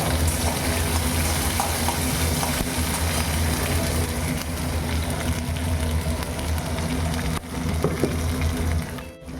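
Tomato and capsicum fry with spices in a pan, a steady loud sizzle running throughout with occasional stirring scrapes, easing off near the end.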